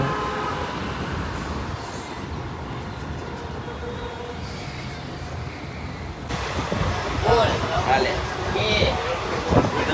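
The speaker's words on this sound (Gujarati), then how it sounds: "તો ગાઈસ દિલ્હીથી ટ્રેન અમારી નીકળી છે." A passenger train runs out of Delhi, making a continuous low rumble and rattle from inside the carriage that swells louder near the end, with voices talking faintly over it.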